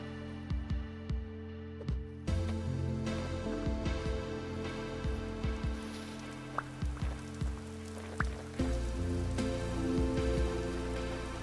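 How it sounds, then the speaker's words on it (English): Rain falls steadily in the video game Vintage Story, a dense hiss of drops on surfaces that thickens after the first couple of seconds, broken by scattered soft thuds and taps, with no one speaking. "It did rain."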